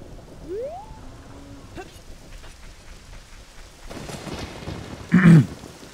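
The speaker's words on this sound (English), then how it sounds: "if you play it, it does start raining, like pretty much anywhere" Rain and rolling thunder in the Zelda: Ocarina of Time video game, a steady patter of rainfall with a loud thunder crack near the end, mixed with game sound effects.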